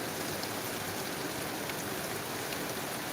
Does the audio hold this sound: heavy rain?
yes